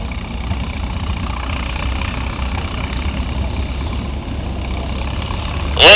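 A tractor engine runs at a tractor pull, a steady low rumble that idles continuously throughout and swells into a louder, sharper burst right at the end.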